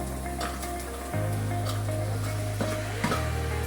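Modak filling being stirred in a pan over a low flame, a steady soft sizzle with faint scraping strokes, close and continuous with no talk.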